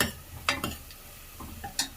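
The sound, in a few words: stir-frying rice with masala in a pan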